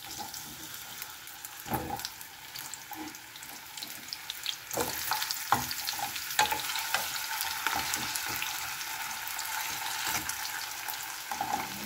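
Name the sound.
potatoes frying in oil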